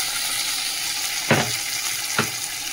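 Dried tomatoes hit a pan of fried garlic and onion and sizzle steadily and loudly, with two brief stirring scrapes breaking through the constant hiss, close up and without talking.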